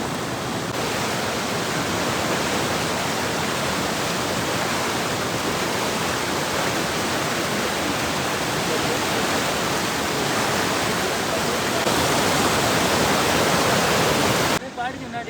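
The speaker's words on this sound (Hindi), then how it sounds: "ये जो पानी आ रहा है ये दूधीपाद सर लेक से आ रहा है।" Loud, constant roar of a mountain stream flowing down from Dudipatsar lake along a trekking track, a dense broadband rush filling the whole stretch, near and unbroken, ending with a brief dip.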